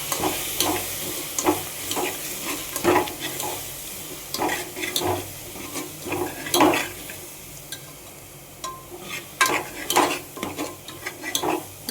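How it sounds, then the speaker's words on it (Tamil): Chili powder, tomato and onion sautéing in oil for a brinjal thokku, with steady sizzling broken by repeated stirring scrapes and utensil knocks against the pan, close and moderately loud. "மிளகாய்த்தூள் பார்த்திங்களா வெண்ணிலே கொஞ்சம் வதக்கினா தான் நல்லாயிருக்கும்"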